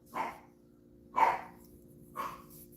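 Three soft, short barks or yips from a puppy playing with her food in another room, spaced about a second apart, somewhat distant over a quiet low hum.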